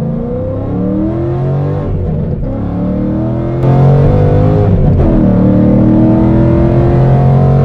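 Close, loud Ford Mustang engine revs climb and fall during driving, harmonics sweeping upward with gear changes and the drone swelling louder partway through.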